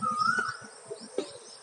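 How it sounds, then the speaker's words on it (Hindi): A few birds chirp in short, scattered calls against a quiet background, with one brief whistle-like note near the start and a couple of sharp chirps after it. "पक्षियों की चिहचाहट"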